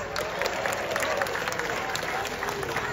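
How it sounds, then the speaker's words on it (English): A crowd at a seal show at Taronga Zoo in Sydney claps for a few seconds, the applause steady and fairly close, with a little voice noise mixed in. "Give yourselves a round of applause"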